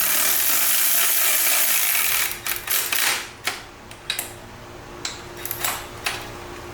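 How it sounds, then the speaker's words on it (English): A 14mm wrench snugs down exhaust muffler bolts on a Subaru Sambar, giving a series of sharp, irregular metallic ratchet clicks up close after a broad hissing noise fades out. "We're going to use a 14mm wrench to go ahead and just snug these down the rest of the way"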